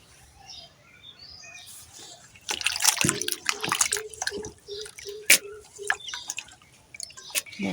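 Water drips and splashes while rice is rinsed in a village kitchen, a scatter of close, sharp droplets and small pours that start quietly and grow busier, with faint birdsong in the background.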